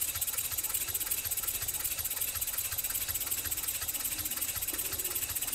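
A six-cylinder radial engine built in Northeast Indiana runs steadily near at hand, its fast, even ticking and chugging beat holding without a break, with no talk.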